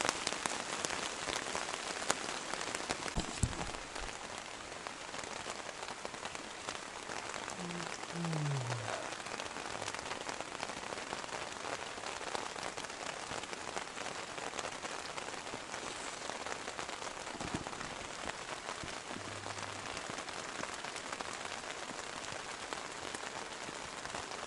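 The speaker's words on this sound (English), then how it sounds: "It's been raining all night and it's raining now." Steady rain falling on the taiga forest, an even, close hiss of drops on leaves and surfaces that carries on without pause, with a couple of faint knocks and no voices.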